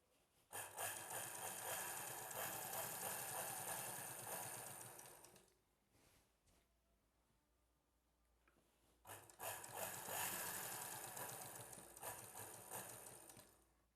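A sewing machine stitches piping around the neckline of a boat neck dress in two bursts of fast, even mechanical whirring, close and clear, with a quiet pause between them.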